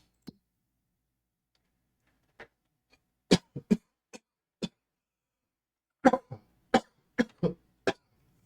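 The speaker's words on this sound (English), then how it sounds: "I'm so sorry of all the coughing" Scattered coughs break a near silence over Farming Simulator 25 gameplay, first a few isolated ones, then a rapid cluster of sharp coughs close to the microphone.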